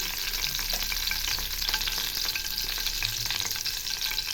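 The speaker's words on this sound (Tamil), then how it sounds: "அதில் எண்ணெய் இருந்துச்சு, அதனால் அதுலேயே சோம்பு போட்டுட்டேன்" Fennel seeds sizzling in hot oil in a kadai, a bright continuous crackle with occasional sharper pops and faint stirring, steady and close with no voices.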